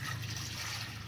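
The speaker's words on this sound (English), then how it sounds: "Get your distilled water and pour it in." Distilled water being poured into an ultrasonic cleaner tank, a soft, continuous trickling stream that stays faint and steady for the whole moment with no voices.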